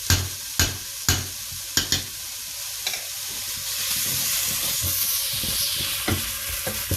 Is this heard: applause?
no